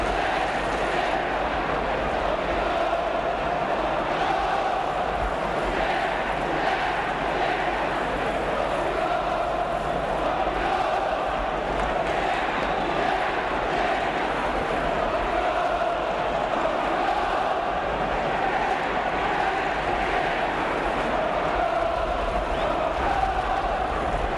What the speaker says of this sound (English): a certain relief mingled with the joy in that crowd of Arsenal supporters